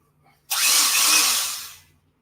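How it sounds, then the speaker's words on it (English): A corded power drill whirs to life abruptly, runs at a steady high-pitched whine for about a second and a half, then spins down. "That's the sound of a working drill."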